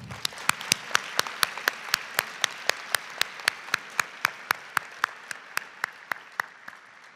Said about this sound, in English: Please give Gerardo another round of applause.